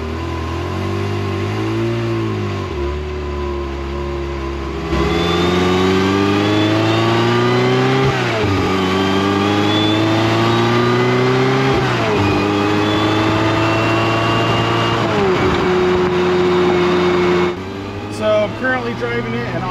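A Ferrari F355 pulling away, its engine revving up through rising pitch sweeps in repeated gear-shift cycles, loud and close from inside the car, with a voice talking over it.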